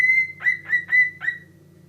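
A pet cockatiel whistles a clear, high tune of about five short, bright notes in a quick rhythm, close and alone with no talk.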